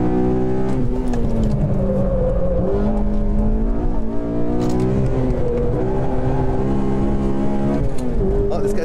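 A Honda Civic Si engine revving hard and climbing through gears under a steady roaring drone, loud and close, racing around a track.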